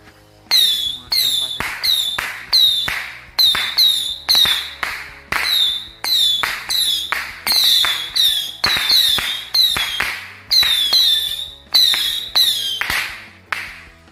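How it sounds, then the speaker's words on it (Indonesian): A Patriot Missile 25 shot firework launching in rapid succession, each shot a sharp whistling crackle repeating in quick clusters, loud and close for about fourteen seconds. "Selanjutnya kita nyalain mercon Patriot Missile 25 shot."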